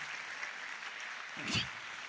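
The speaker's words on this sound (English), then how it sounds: "Can we have a thunderous applause for the 8?" Audience applause at a quiz regional final in Bengaluru, a steady, moderately distant wash of clapping for eight finalists, with a brief bump of noise partway through.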